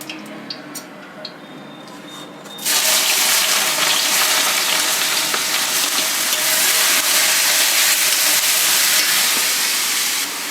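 Chopped onions fry in four large spoonfuls of oil in a kadhai, a loud, steady sizzling hiss that starts abruptly after a quieter moment and carries on without talk.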